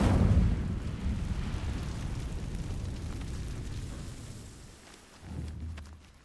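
Incendio fire spell cast in the Hogwarts Legacy video game, a deep whooshing burst that fades into a low rumbling roar, with a smaller thump near the end.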